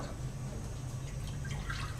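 A few drops of pH indicator drip into a container of water, small soft plinks near the end over a steady low background hum.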